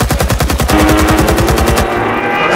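Rapid machine-gun fire in the Vietnam-era shooter game Rising Storm 2: Vietnam, a loud, close, steady burst of shots that stops abruptly near the end.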